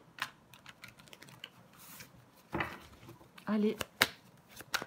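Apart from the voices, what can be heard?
tarot cards being turned over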